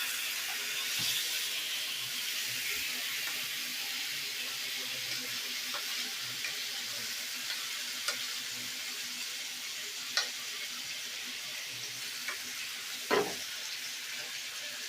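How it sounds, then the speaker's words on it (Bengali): Chicken pieces fry in a pan of spicy masala for a garlic-free chicken kosha, a steady soft sizzle running throughout with a few brief stirring knocks and scrapes near the end. "চিকেনটা দিয়ে ভালো করে মশলাটার সঙ্গে কষিয়ে নেব।"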